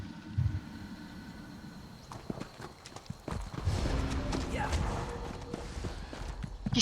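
Horse hooves clip-clop at a steady walking pace in The Elder Scrolls Online, fairly quiet, with some other faint game sounds mixed in toward the end.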